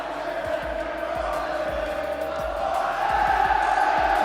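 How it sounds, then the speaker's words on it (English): Arena crowd at the FIFAe World Cup roaring after a goal, a sustained loud mass of cheering and shouting with rhythmic thumps underneath, swelling louder toward the end. "Arena erupting"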